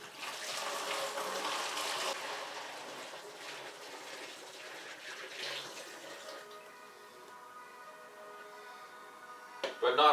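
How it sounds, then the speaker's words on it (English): Distilled water pours into a gallon container in a steady rushing stream, its pitch rising as the jug fills, with a person talking softly over it. "I'm just going to fill this container up, which is a gallon, and with the distilled water"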